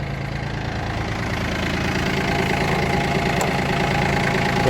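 A Yanmar F-180 compact four-wheel-drive tractor engine runs steadily and close by, a constant droning rumble that swells slightly over a few seconds with no talk.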